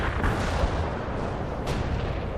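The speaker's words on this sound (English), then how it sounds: "Artillery strike on target now." Artillery strike landing in the World in Conflict video game, a dense, continuous rumbling barrage of booms and blasts with a sharp burst near the end, loud and sustained throughout.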